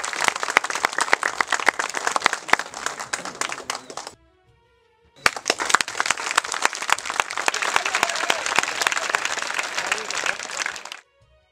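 An audience at a felicitation ceremony bursts into loud, dense applause, breaks off briefly, then claps again at full strength before stopping abruptly.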